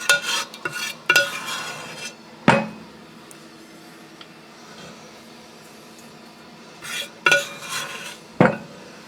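A utensil scrapes peach butter out of a ceramic crock pot, giving a handful of sharp clinks and scrapes in irregular bursts with quiet gaps between, close by and with no talking.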